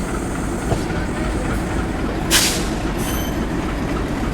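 The Mangalore Express passes close by at a railway junction, a loud continuous roar of wheels and carriages on the rails, with a brief squeal of wheels partway through.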